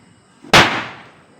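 A single firecracker bursts with a sharp loud bang, followed by a decaying rumble and crackle, after brief quiet.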